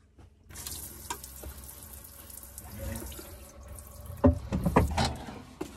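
Tap water runs into the sink of a Mercedes Sprinter camper van's kitchen in a steady close splash, with clunks and splashier bursts near the end.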